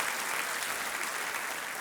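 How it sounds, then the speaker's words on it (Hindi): Studio audience applause on the KBC game show welcoming a contestant, a dense, even wash of clapping that stays steady and fairly loud from start to finish. "तालियों के साथ आपका हम स्वागत करते हैं।"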